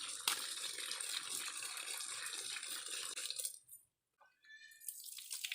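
Spinach and coriander leaves being washed in water, a steady broadband splashing and running-water rush that continues for several seconds, then stops abruptly, leaving a few faint drips and light handling sounds near the end.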